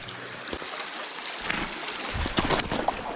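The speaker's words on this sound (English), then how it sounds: "A little creek. I'm presuming this is Flaggy Creek." Flaggy Creek, a small creek near Mount Lawson, flowing over rocks in a steady close babble, with a few brief knocks and splashes from movement nearby.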